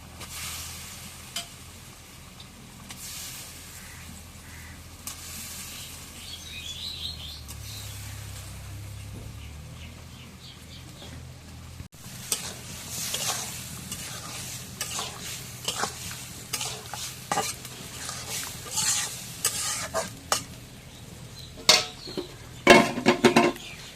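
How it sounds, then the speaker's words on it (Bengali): Potato pieces go into a pan of sizzling spice masala and are stirred, giving a soft steady fry with scraping spoon strokes and clinks that grow busier and louder toward the end. "এখন মশলাটা কষানো হয়ে এখন আলুটা দিয়ে দিয়ে দিয়ে দিই"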